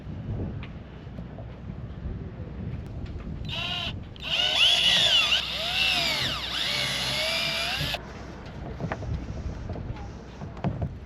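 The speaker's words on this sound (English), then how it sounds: "I can use it to drill the holes at the same spot" A power drill whines at high pitch for several seconds, rising and dipping as it bores holes in the arch of a hurricane-damaged sailboat, surrounded by quieter background noise.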